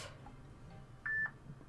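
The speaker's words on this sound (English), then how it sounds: "Don't beep while I'm streaming." A mobile phone gives a short electronic beep, a brief steady tone with a second quick blip, faint over low background hum during a live stream.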